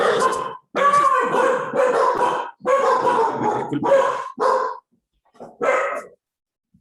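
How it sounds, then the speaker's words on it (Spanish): Small dogs bark in a run of sharp, close yips and barks that come in uneven bursts with short gaps, and a voice speaks briefly among them. "tengo unos perritos acá"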